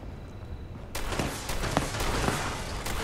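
Gunfire in Fallout 76 erupts after a quieter lead-in, a dense loud volley of shots and sharp cracks that keeps going to the end.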